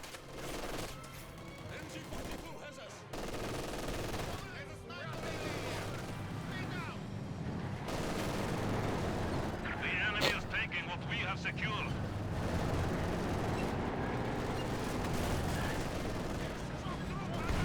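MG42 machine gun fire in the World War II strategy game Company of Heroes 2, with bursts of gunfire, heavy explosions and battlefield rumble layered together at a busy, fluctuating volume.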